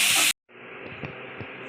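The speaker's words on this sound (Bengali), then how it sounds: "বেগুনটা একটু ভেজে নিই" Eggplant fries in hot oil alongside neem leaves, giving a brief loud hiss, a sudden gap, then a steady, softer sizzle with faint pops.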